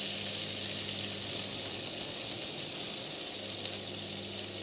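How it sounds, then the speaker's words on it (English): Salmon chunks fry in a pan over medium-high heat, a steady even hiss of sizzling oil with one faint tap near the end and no voices. "cook the salmon chunks for 1 to 2 minutes"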